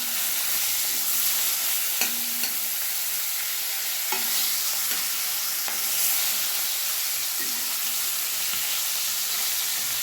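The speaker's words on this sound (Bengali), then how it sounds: "মাছগুলো একটু ভাজা হয়ে গেছে, এবার আমি উল্টে দিচ্ছি।" Pieces of katla fish being flipped and fried in hot mustard oil, with a continuous close sizzle broken by occasional scraping turns of a spatula in the pan.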